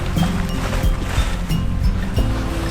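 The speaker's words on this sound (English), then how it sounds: "I thought I heard a boat, didn't want to hit anything." A boat engine drones close by with water churning and slapping against the hull, loud and steady throughout, off a Greek island.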